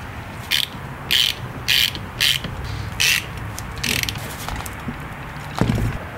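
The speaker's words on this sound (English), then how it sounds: "Just torque your bolts down to 45 foot-pounds and you're done." Ratchet wrench torquing bolts on a Toyota steering gearbox, six or seven short loud clicking bursts at an uneven pace, close up, with quieter handling noises between them and no talk.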